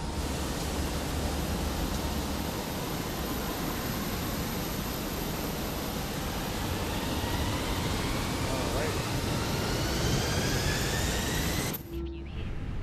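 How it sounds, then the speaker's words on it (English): An Airbus A319 jet engine spools up during a start, a loud broad whine with rising tones layered over steady rushing noise, then cutting off abruptly near the end. "Waiting your confirmation for a good engine start."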